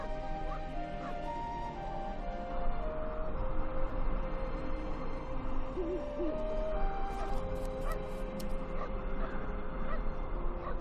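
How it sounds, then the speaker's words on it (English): Hooting and honking bird calls in the Syberia 2 video game, repeated cries over a continuous ambient drone of game sound and music, moderately loud, with no speech. "Yuki, leave that bird alone."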